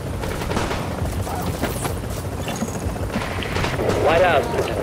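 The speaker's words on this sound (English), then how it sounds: "Helicopter's here." A helicopter arrives in the video game The Division: a steady low rotor rumble beneath busy combat noise, with scattered gunfire and a voice speaking near the end.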